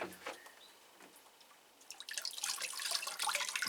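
Water trickles and splashes, quiet at first then growing into a steady, close pouring patter over leaves.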